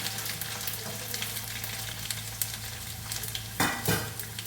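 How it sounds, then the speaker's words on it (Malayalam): Garlic fries in hot oil with mustard seeds already popping for a lemon pickle, a loud continuous sizzle with crisp crackles and a couple of metallic stirring knocks near the end. "വെളുത്തുള്ളി ഇട്ടാം"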